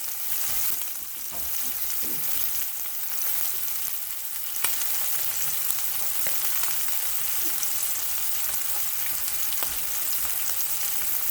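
Meat searing in a pan for a Sunday roast, a constant loud hissing sizzle with small crackles and pops, steady and unaccompanied by talk.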